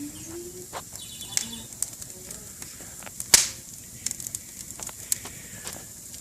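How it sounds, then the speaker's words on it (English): In a video game, a bird coos softly amid scattered sharp clicks and a sudden wing-flap burst near the middle, set over a low crackling background. "Let me see that little bird."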